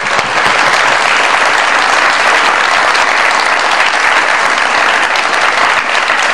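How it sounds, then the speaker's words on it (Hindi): A studio audience welcomes a guest onto a comedy show with loud, sustained applause, many hands clapping evenly and densely for the whole stretch. "बहुत सारी तालियों में वेलकम"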